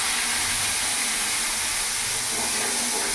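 Ground spice paste dropped into hot oil over tempering spices in a pan for a potato and cauliflower vegetable curry, giving a loud, steady, dense sizzle and hiss that fills the clip with no talk.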